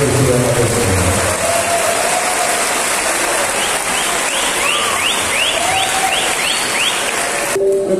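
An audience applauds in tribute to Bié dos Oito Baixos, a dense, steady roar of clapping that holds for the whole stretch at an even level, with a faint, brief voice rising above it near the end.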